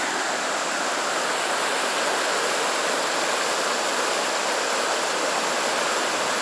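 Storm runoff rushes as a steady, roaring stream of water behind a house, loud and continuous with no pauses and no voices.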